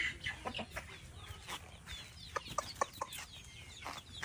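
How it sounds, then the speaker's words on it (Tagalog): Chickens cluck softly and intermittently at close range while being settled down to sleep, with scattered short calls over a quiet background. "Papatulog natin ngayon ang mga manok."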